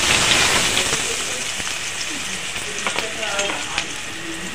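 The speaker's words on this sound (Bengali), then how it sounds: "আলুগুলো ভেজে নেব।" Small cut potato pieces fry in hot oil with a loud, continuous close-up sizzle and crackle, with faint stirring and spatter under it.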